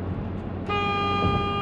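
A Dacia Duster's car horn sounds one sustained, steady honk starting partway through, close and loud over a low engine idle, with no talking.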